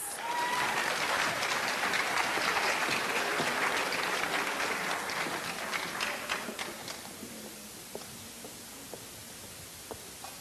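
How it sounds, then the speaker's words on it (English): Warm applause from an evening talk-night audience fills the room, steady and dense for several seconds before thinning into scattered last claps and quiet. "So if everyone give him a warm round of applause."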